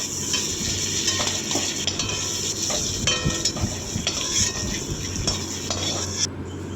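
Tiger prawns fry in hot oil in a pan while being stirred, giving a close, continuous sizzle with repeated scraping and clinking from the utensil and no talking.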